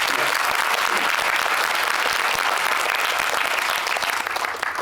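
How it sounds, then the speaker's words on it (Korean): A large cinema audience applauds at a film screening and guest event in Megabox COEX theater 9, a dense, loud and steady wash of clapping that carries on for the whole stretch and eases slightly at the end. "큰 박수가 필요할 것 같습니다."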